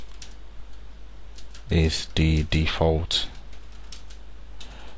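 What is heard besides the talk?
typing on a computer keyboard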